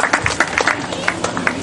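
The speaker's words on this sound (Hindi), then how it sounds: "तालियां जरूर जाए।" An audience at a gathering in Amravati claps in a patter of scattered, fairly close hand claps, with a voice speaking over the applause.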